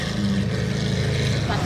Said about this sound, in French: Échappement Capristo.